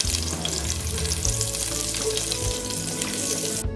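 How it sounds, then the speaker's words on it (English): Garlic frying in about three tablespoons of hot oil, cooked until light brown, with a steady, close sizzle and crackle running throughout and no one speaking. "Heat 3 tablespoons oil and cook the garlic till light brown"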